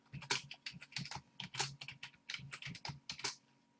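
Password keys tapped on a computer keyboard during an ESXi 7 installation, a close, steady run of quick clicky keystrokes in uneven bursts, stopping shortly before the end.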